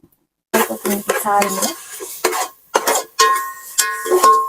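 Whole spices fried in oil for an egg dum biryani, with salt, turmeric and chili powder, crackle and sizzle close up while a spoon scrapes and stirs in bursts, with short pauses between strokes.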